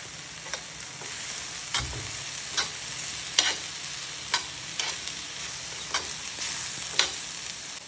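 Steady sizzling of potatoes and onions frying in a pan, with a spatula scraping and stirring in periodic strokes, close and moderately loud, no voices.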